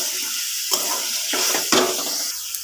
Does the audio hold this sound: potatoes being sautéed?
yes